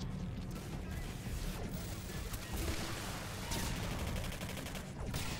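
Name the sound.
gunfire in the video game Singularity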